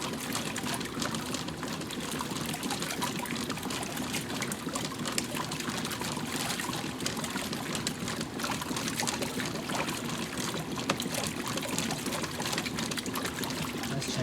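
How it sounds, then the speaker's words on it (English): Washing machine draining at the end of its wash cycle, with a steady, continuous rush and trickle of water flowing out, fairly loud and unbroken throughout with no talk. "this one here looks like it's probably getting ready to go into drain"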